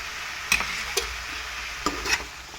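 Ginger-garlic paste frying in a pan as it is stirred, with a steady sizzle under four sharp scrapes and knocks of the spoon against the pan.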